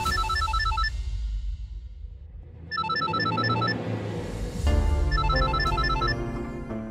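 Phone ringing with a repeated electronic ringtone of short, bright beeping tones in three bursts, under a low background bed of music or ambient noise.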